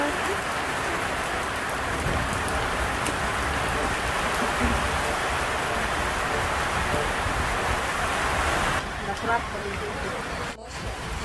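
Steady rain falling during a storm at a beach in Shoalhaven, a dense continuous hiss throughout with faint voices in the background.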